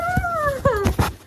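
Puppies whimpering and whining close by in a few short rising-and-falling cries, with soft yelps between them.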